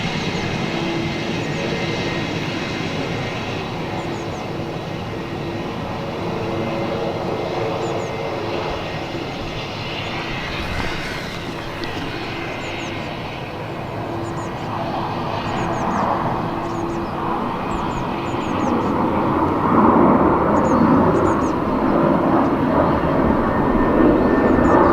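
Ryanair airliner landing at Dublin Airport, a continuous loud jet engine roar heard from a distance that swells toward the end, with no one speaking.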